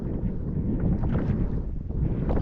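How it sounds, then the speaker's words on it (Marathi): Strong wind gusts over open water during net fishing for crabs, a loud, steady rumbling buffet that roars continuously across the whole stretch with no voices. "आता वारा सुटे बघा वारा जाम आहे बघा"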